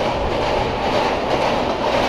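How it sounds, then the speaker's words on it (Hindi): A train passing on an overhead track in India, a loud continuous rumbling roar with a clattering rail rhythm, heard close and steady throughout without voices. "ऊपर से ट्रेन जा रहा है।"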